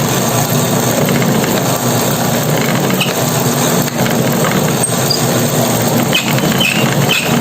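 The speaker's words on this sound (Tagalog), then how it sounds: "dadaan mo natin sa ating makina" Dough-rolling machine flattening bread dough, a continuous loud mechanical whir and rattle with faint clicks, no talking.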